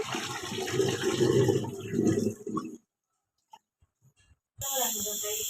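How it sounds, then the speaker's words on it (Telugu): Water gushes out loudly for a few seconds as it is drained from washed rice, then stops into near silence before a voice starts up. "వాటర్ అంతా మొత్తము వంచేసుకోవాలి."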